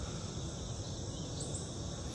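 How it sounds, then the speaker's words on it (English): Honey bees from new hives buzz steadily around a first-time beekeeper's head, a dense continuous hum close by with no talking. "I can hear them flying around my head"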